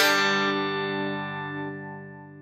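An electric guitar runs through the compressor block of a Hotone Ampero multi-effects unit: a single strummed chord rings out clearly and alone, with long, even sustain as it slowly fades.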